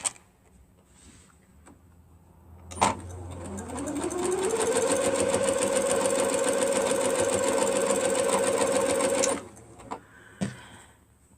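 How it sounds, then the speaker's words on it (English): Quilt blocks feed through a sewing machine that starts up after a click, climbs to speed and hums steadily for about six seconds before stopping with a few handling clicks. "we're going to start sewing these down"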